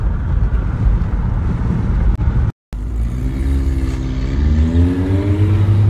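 An old 1960s or 70s Volkswagen with a carburetor engine drones loud and close, its steady engine note rising and falling under heavy wind buffeting, with a brief dropout partway through.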